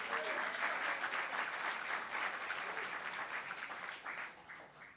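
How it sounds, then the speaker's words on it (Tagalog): Loud, sustained applause from a church congregation at an anniversary service, dense clapping that holds steady for several seconds before easing slightly at the end. "Yung naniniwala, pumalakpak ng malakas."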